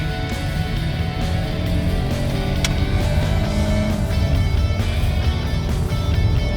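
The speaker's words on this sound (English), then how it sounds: "So we'll get 40 miles an hour, and then I'll open it up to 65 to speed limit here." A 2017 Chrysler Pacifica minivan picks up speed from about 40 toward 65 mph on an open road, heard from inside the cabin as a steady, loud rumble of engine and road noise that builds gradually without pause.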